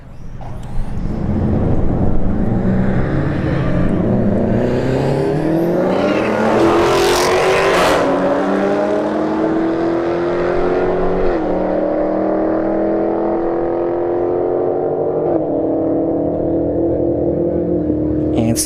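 A Subaru STI and a Challenger Scat Pack launch side by side in a street drag race at a motorsports park, engines roaring loud and close, then rising through gear shifts as they pull away.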